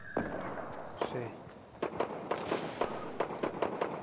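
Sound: gunshots in the video game Fortnite

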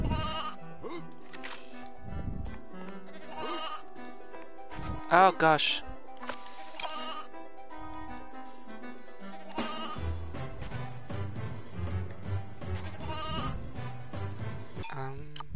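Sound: sheep bleating in video game Toy Story 2

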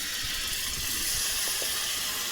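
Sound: water from rinsed mixer bowl poured into frying masala

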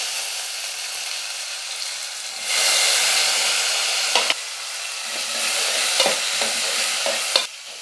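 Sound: onions sautéing in a pan for sambar

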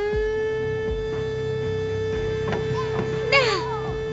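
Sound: factory siren marking the plant's closure

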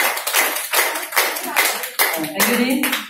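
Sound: audience clapping for a customer

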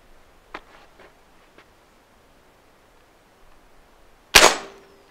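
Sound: Seneca Double Shot double barrel air shotgun firing

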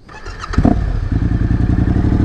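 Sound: Yamaha Tenere 700 motorcycle engine starting and running

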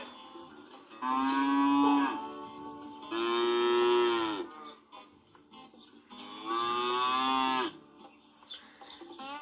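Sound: cow mooing

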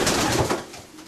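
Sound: pigeons cooing in a loft

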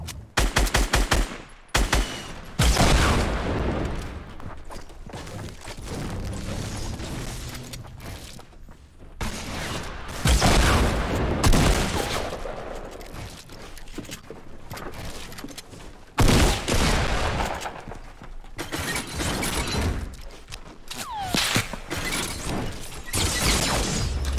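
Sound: gunfire in the Fortnite video game

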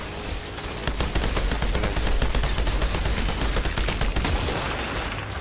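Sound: gunfire from enemy in video game Outriders

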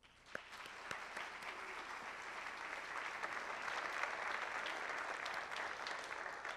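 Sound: audience applause at jazz concert

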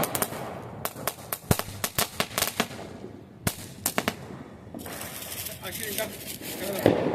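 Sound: Diwali firecrackers bursting

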